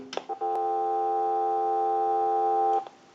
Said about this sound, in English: Now I want to go ahead and hang up. We'll give you some dial tone.